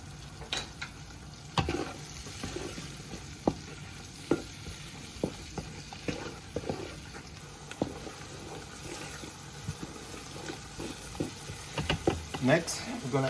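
Purple onions frying and caramelizing in a pan for jerk curry goat, a soft steady sizzle broken by irregular scrapes and clacks of stirring, fairly quiet, with talking at moments.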